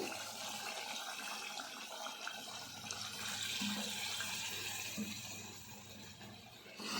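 Water pours into a pot of Telangana-style mutton curry, a steady rushing splash that fills the clip at close range and tapers off near the end, with no talking.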